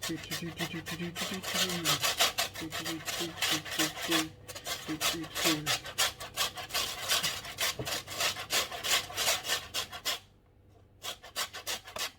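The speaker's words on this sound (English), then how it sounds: "get the zest off the limes. Now I've got a zester here, but I tend to use the plate a bit." Lime zest being grated on a flat grater plate, a steady run of rhythmic rasping strokes, close and loud, with brief pauses between bursts.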